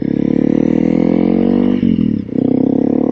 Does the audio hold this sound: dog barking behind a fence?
no